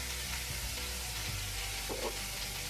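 A steak fries in a pan with a continuous, even sizzle and crackle at moderate volume. No voices are heard over it.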